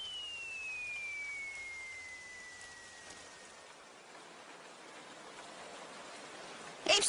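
Soft, steady rainfall hisses throughout, quiet and even. A faint falling whistle runs early, and a brief louder rustle comes at the end.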